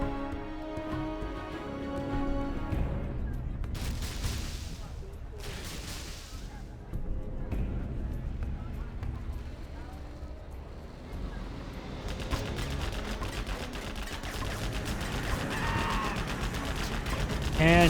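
Dragon tanks spray flames across a Command and Conquer: Generals Zero Hour battlefield, a dense continuous roar of fire and gunfire-like bursts with loud whooshing blasts, over busy game effects throughout.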